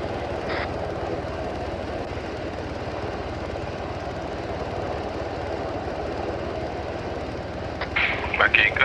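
A helicopter in the Arma 3 video game, a continuous steady rotor and engine drone held at an even, moderate level, with a few sharp clicks and clatter toward the end.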